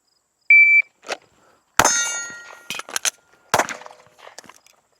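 Glock pistol loaded with Mecgar steel aftermarket magazines fires in a timed drill: a beep, then sharp separate shots with a metallic clang of steel targets and a reload pause between.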